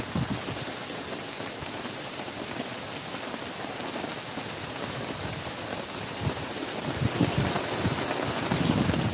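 Heavy rain pounds down steadily during a windy storm, a constant close hiss of drops on surfaces that grows slightly louder toward the end, with no voices.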